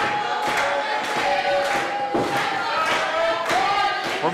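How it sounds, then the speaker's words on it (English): Wrestling crowd at an indoor event chanting loudly in a steady rhythmic pattern that repeats about every second, sustained throughout with dense cheering texture, heard continuously without distinct talk on top. "Getting the crowd behind him. As they're chanting, Cyclone's gonna kill you."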